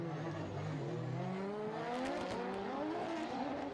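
Drift cars at a Formula Drift Japan round launching from the start and accelerating hard, engines rising in pitch through the gears, loud and steady over continuous crowd and track ambience.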